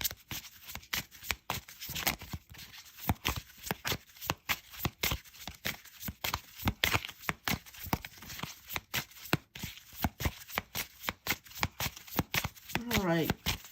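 Tarot cards being shuffled over and over in quick riffling bursts, close and fairly quiet, with rustling and handling noise throughout.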